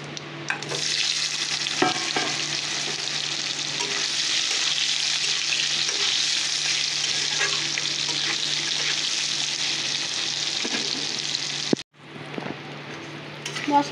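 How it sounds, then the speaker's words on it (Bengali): Fish curry sizzling in oil in a pan with fried fish and small boiled potatoes, a steady loud hiss with occasional stirring scrapes, briefly cut off near the end before the sizzle resumes. "চলো এবার ঝোলটা বসিয়ে দিই"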